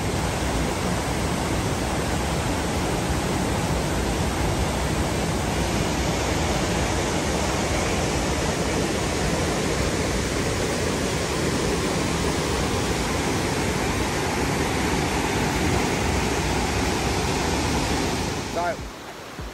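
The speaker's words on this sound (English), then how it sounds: "Today we're up at the beautiful Crystal Cascades, checking out this lovely place." Water rushing over rocks at Crystal Cascades near Cairns in tropical north Queensland, a constant loud wash of broadband noise throughout, steady with no pauses, fading only at the very end.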